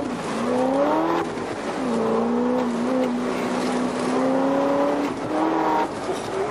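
Brand-new red-plate car with only 200 km on it accelerating hard, its engine note climbing through several gears, with sharp pitch drops at each shift, loud and close with no talking.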